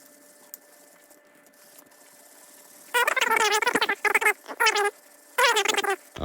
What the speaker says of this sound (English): what you want to do is you want to just reel it in until the spool is pretty much filled to the point